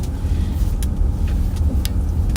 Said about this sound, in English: I'm filming this in the car